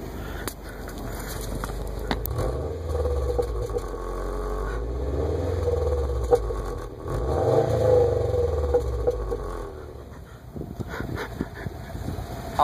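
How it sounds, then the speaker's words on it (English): A Subaru WRX exhaust revs in several rising and falling swells, the engine note climbing and dropping at moderate distance, then settling to idle near the end. "let's hear the exhaust."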